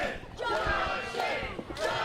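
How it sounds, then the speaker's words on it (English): A wrestling crowd at a Junction City Wrestling show takes up a rhythmic chant, many voices blending into a loud, steady roar with rising and falling pulses. "Ad starting a Junction City Wrestling chant in the crowd"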